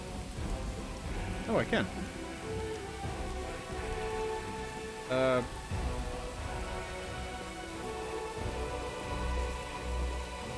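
Rain falls steadily at a campsite in the video game Pathfinder: Wrath of the Righteous, a soft continuous patter under a man's quiet speech, with a couple of brief sharper sounds breaking through.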